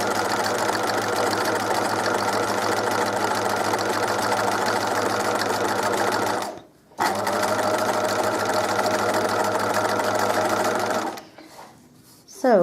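A sewing machine stitches fabric shapes in a loud, steady mechanical whir that stops briefly midway, resumes, then cuts out again near the end.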